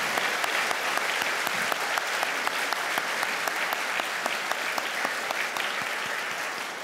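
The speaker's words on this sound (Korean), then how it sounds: "우리 선교사님들 박수로 맞이하도록 하겠습니다." A church congregation applauds to welcome missionaries with sustained, dense clapping from many people. Individual sharp claps stand out against a steady roar that fades slightly at the end.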